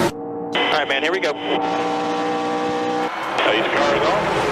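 NASCAR race car engines roar and whine at speed, sustained droning tones shifting pitch as cars pass, heard under an excited announcer's voice.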